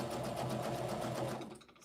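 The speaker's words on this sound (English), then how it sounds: "I am doing a back stitch." A sewing machine runs a back stitch on a quilt star block, a steady fast mechanical whir filling the short span and easing off at the end.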